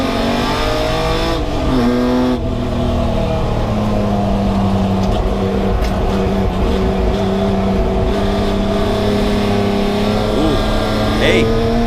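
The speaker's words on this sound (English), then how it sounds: "Listen to that 6-cylinder Hemi." Australian Chrysler E49 Charger with a six-cylinder Hemi racing on a track, its loud engine revving up and down through gear changes, close and dominant throughout.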